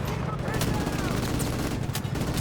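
Gunfire in the video game Call of Duty MW Remastered crackles through rapid bursts of shots over a constant battle din, while a player talks over the action.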